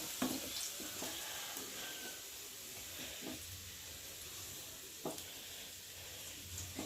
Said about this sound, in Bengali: তো আলুগুলো ভাজা ভাজা হয়ে গেছে দেখতে পাচ্ছ